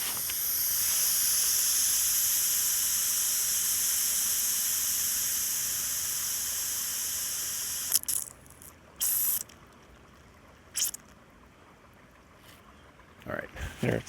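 Water sprays with a steady, bright hiss through a ram pump line at an ice collection site, lasting about eight seconds before giving way to short bursts and handling noises.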